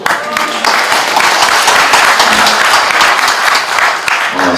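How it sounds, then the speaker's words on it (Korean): A symposium audience in Korea welcomes a speaker with loud, steady applause that fills the room evenly, tapering slightly at the end. "박수로 모시겠습니다."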